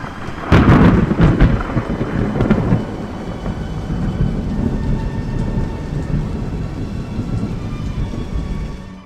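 A thunderstorm with a sharp, loud thunderclap near the start that rolls into a long rumble, over steady heavy rain falling on surfaces throughout.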